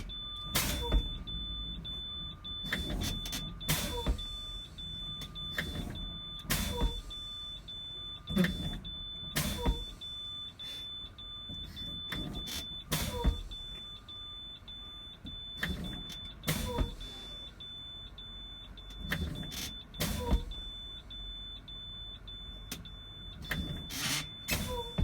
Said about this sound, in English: Going to continue pumping down the brakes to between 20 and 40 psi.